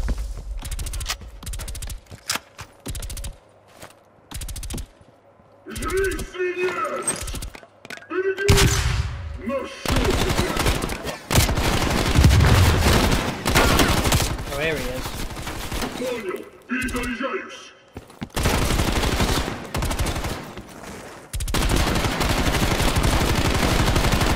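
Gunfire rattles in Call of Duty Black Ops Cold War, with loud bursts of automatic fire and single shots coming in waves. Someone talks between and over the shooting.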